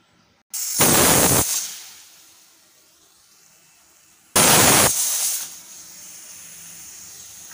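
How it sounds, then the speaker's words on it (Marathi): Pressure cooker whistling while dal palak cooks on a gas stove: two loud, steamy whistle bursts about four seconds apart, each dropping off into a softer lingering hiss. "आपल्या 3 शिट्ट्या झालेल्या आहे।"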